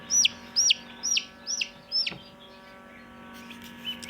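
Newly hatched turkey chicks from an incubator peep in five sharp, evenly spaced high calls, close and clear, followed by a quieter stretch with a faint later peep in the background.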